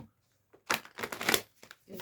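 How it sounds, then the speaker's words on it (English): Tarot cards shuffled by hand in several brisk bursts with short pauses between, close and fairly quiet, ending in a final shuffle. "Okay, last shuffle"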